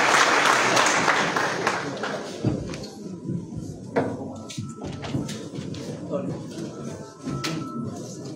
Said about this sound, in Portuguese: Um salve de palmas para o Pedro Gente.